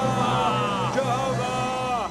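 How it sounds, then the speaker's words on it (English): A crowd shouting a war cry together in a reenactment of the conquest of Jericho, a dense, sustained roar of many loud voices yelling in unison without pause, close and overlapping throughout. "Now we launch the war cry and the Lord will give us a city of Jericho."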